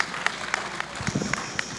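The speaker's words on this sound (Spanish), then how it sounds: "para quien pido un aplauso" Scattered audience applause at a live Spanish-language talk or event, with a handful of distinct claps in a loose, uneven rhythm, moderately close and fairly light.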